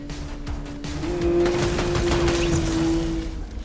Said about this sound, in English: we've been waiting for him to be getting shot at